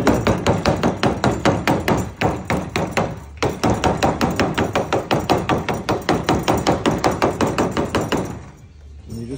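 A corner bossing tool strikes sheet lead in rapid, even, loud knocks, dozens of blows in a steady rhythm with one brief pause, before stopping near the end.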